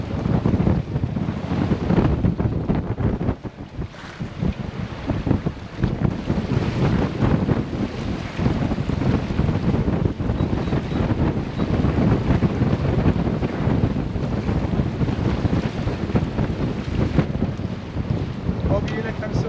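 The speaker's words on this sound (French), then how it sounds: "Il y a 15-16 nœuds de vent." Steady wind roars across the microphone aboard a Bavaria 34 Cruiser sailboat under sail in 15-16 knots, with water rushing along the hull, loud and continuous throughout.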